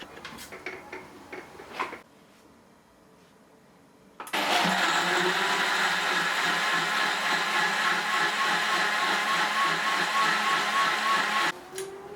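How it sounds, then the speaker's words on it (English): A blender purees a cochinita pibil marinade, kicking on after a short quiet stretch and running at a steady, loud whir for several seconds before cutting off abruptly. "We're going to blitz that in the blender until it's a nice, smooth, even puree."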